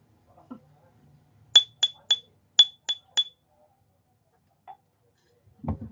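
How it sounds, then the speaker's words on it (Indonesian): Six sharp, hollow knocks on a kentungan, a bamboo slit drum, ring out in a quick, slightly uneven rhythm, then quiet with a faint thump at the end. "Contoh dengan kentungan"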